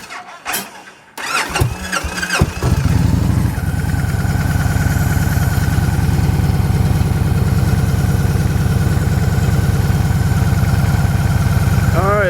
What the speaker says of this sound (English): And I got to start the bike to do that.